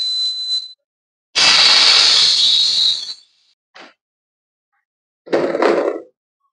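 A pressure cooker full of pinhão lets out four sharp, high steam hisses: a short burst, a long loud blast of about two seconds, a brief puff, then one more burst, with silence in between.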